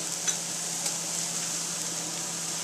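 Butter sizzles in a pan alongside mushrooms while frog's legs are being cooked, giving a faint, steady hiss with a couple of small pops and no talking.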